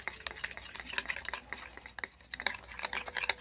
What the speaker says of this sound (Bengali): এরপর ভালো করে মিশিয়ে নিচ্ছি